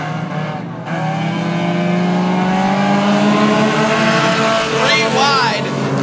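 Honda-powered Hornet class race cars roar steadily around a dirt speedway, engines droning loud and continuous with a brief rise in pitch as cars pass near the end.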